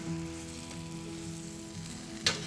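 Greens sizzling steadily in a hot pan as they stir-fry down with salt and white pepper, a soft continuous hiss with one brief sharp scrape of stirring near the end.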